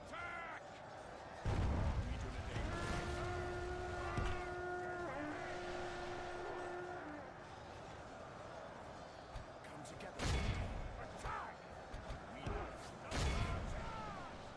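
Heavy catapult shots thud and crash in a Third Age Total War battle during a Northern Dúnedain campaign: three loud, broadband impacts over a constant battlefield din, with bird caws and voices in the mix.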